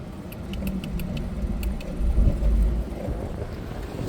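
A Lexus GX460 crawls in its lowest gear with crawl control engaged and the center differential locked, its wheels driven to spin evenly. A steady low rumble carries faint ticking, with wind buffeting the microphone.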